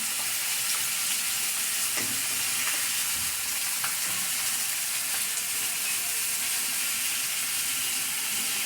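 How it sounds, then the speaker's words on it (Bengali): Chopped onions fry in hot oil, a loud, dense sizzle with a steady steaming hiss that holds for several seconds, joined by a few faint stirring scrapes and no voices. "এখন দিয়ে দিব পেঁয়াজ কুচি।"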